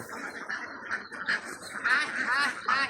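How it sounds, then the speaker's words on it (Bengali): Ducks on a duck farm give a steady run of overlapping nasal quacks and calls, fairly close and moderately loud, with a few sharper bursts toward the end. "এই দেখেন হাঁস"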